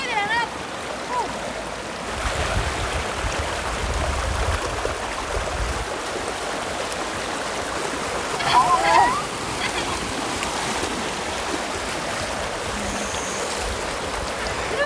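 Calcium-rich hot spring water spills over the edges of travertine terraces at Pamukkale with a steady trickling rush, while people talk nearby.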